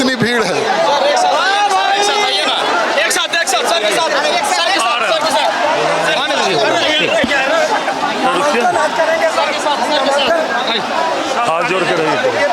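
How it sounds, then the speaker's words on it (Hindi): A packed crowd jostles at the DM office during a BJP candidate's nomination, a loud, dense babble of many overlapping voices with shouts, continuous and close throughout. "कितनी भीड़ है।"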